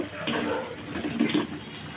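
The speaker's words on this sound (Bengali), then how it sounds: "জলটা অ্যাড করে দিব" Water poured into a thick curry in a pan makes a continuous close splashing, gurgling pour lasting about two seconds, with no speech.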